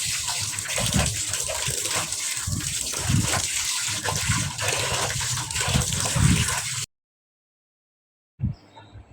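Handkerchiefs are rinsed by hand in water, with steady sloshing and splashing that rises and falls in repeated strokes, then stops abruptly, followed by a brief splash near the end.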